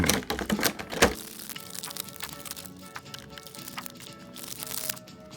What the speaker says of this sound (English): take Duke out from his plastic prison